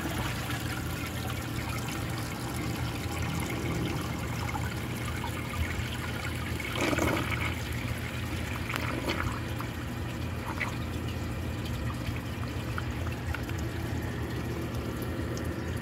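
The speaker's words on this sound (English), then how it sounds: "It sure fills the bowl up a lot. I guess that's thanks to the long flush." A 1963 Chicago Potteries toilet flushes and refills, a steady close rush and trickle of water that runs continuously throughout, with a brief louder gurgle midway and no talking.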